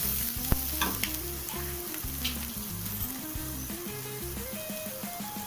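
Vegetables with capsicum sauté in a hot pan, giving a loud, continuous sizzle with light stirring scrapes throughout.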